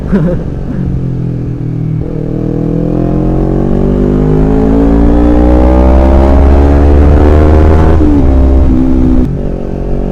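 A motorcycle fitted with an aftermarket short exhaust revs hard and close, its pitch climbing steadily through a long pull, dipping briefly on a shift, then rising again, loud and raw with no talk over it.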